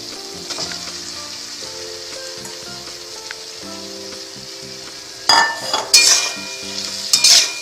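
Chopped eggs hit a pan of spiced oil for a tadka, setting off sudden loud bursts of sizzling and stirring after a quieter stretch with a low tonal background.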